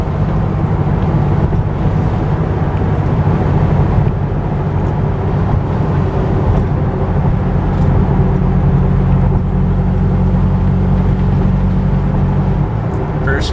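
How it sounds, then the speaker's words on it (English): A 2008 Dodge Viper SRT-10 cruising in sixth gear at about 60 mph and roughly 1100 rpm, a loud, steady low engine rumble mixed with road and wind noise, unchanging throughout with no talking. "there we're in 6th gear, and you can see we're doing about 60 miles an hour, about 1100 RPMs"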